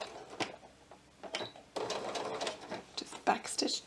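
A sewing machine stitches pixie wings onto a top, with short bursts of rapid mechanical whirring broken by pauses and a voice talking over it.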